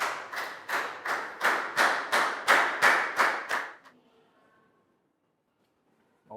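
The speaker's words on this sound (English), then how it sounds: "Big round of applause for Net." A class claps together in a steady rhythm, about ten loud, even, unison claps close by, then stops abruptly, leaving a faint murmur and near silence before a short sound at the end.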